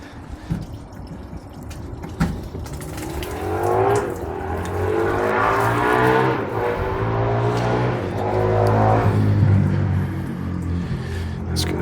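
Built-up water pressure releases from a garden hose line with the tap off, a loud sustained gushing, spluttering spray that swells and wavers for several seconds after a few sharp knocks.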